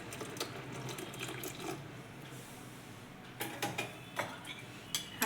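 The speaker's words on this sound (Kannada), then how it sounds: "ಇದಕ್ಕೆ ಸ್ವಲ್ಪ ತಣ್ಣಗಿರೋ ಹಾಲು ಹಾಕ್ಕೊತಾ ಇದ್ದೀನಿ." Cold milk is poured into a mixer jar, a steady close watery wash with several short clinks and splashy bursts toward the end; no voices.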